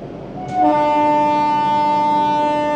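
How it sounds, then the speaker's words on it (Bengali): The Tamralipta Express train sounds a loud, sustained horn as it departs Ramnagar station, the blast starting half a second in and holding steady over the rail noise. "ট্রেন আমাদের ছেড়ে দিল"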